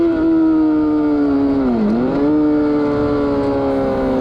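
A KTM motorcycle engine on a race track, a loud sustained whine that drops briefly in pitch under braking, then climbs and holds again.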